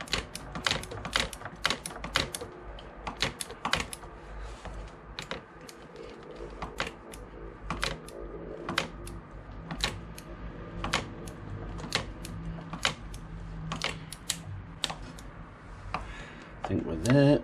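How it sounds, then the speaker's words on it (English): Torque wrench ratcheting on the spark plugs of a Honda VFR800 VTEC, a steady run of sharp, close clicks and ticks in quick bursts with short pauses, under a quiet workshop background. "Not a lot of room to swing your torque wrench around in there"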